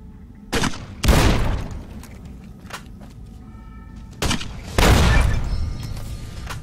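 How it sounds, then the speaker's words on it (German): In the video game Fallout New Vegas, loud explosions and gunfire boom in two sharp pairs, each blast followed by a decaying rumble over a quiet background. "Explosion!"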